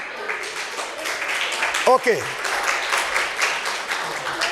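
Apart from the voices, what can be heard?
audience applause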